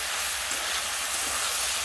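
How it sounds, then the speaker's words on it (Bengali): Water poured into a hot pan of fried spices and fish head hisses in a dense, even burst of steam and sizzle, close and continuous. No voices. "দিয়ে ভালো করে কষে নিয়ে এবার আমি জল ঢেলে দেবো।"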